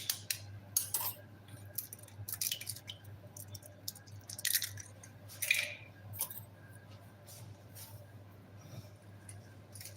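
Egg and milk being whisked for an egg wash, a run of irregular quick scraping clinks and wet squishes from utensil against bowl, close and fairly quiet.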